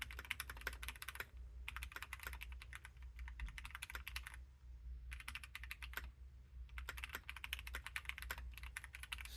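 Rapid typing on a Keychron C3 Pro keyboard, clattering keystrokes arriving in fast bursts separated by brief pauses, close and clear with a low hum underneath and no talking.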